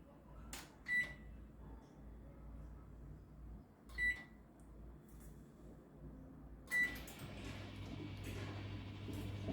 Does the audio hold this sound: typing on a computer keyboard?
no